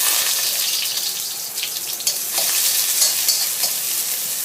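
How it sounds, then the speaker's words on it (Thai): Loud, crackling sizzle of chopped shallots frying in hot oil for pad thai, with stirring scrapes and bursts of spattering throughout. "ถ้ามีหน่อยมีน้ำมันมันก็จะดังซีดๆซากๆนะคะ เจียวหอมแดงให้หอมก่อนนะคะ"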